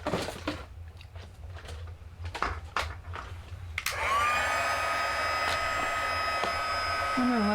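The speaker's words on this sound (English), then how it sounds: "And then I'm going to grab my heat tool." A handheld embossing heat tool switches on partway through and blows hot air with a steady, loud whirring hiss that holds to the end, preceded by a few soft handling taps and clicks.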